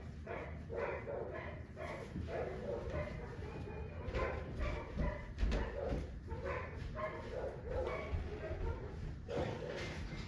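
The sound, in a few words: dogs barking excitedly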